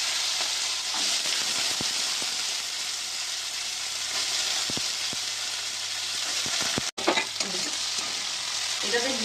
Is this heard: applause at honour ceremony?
no